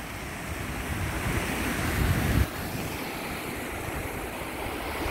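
Steady broadband rush of an upper waterfall on the stream by the Klepzig Mill, water pouring over granite, a continuous close roar with a brief louder swell midway, no voices.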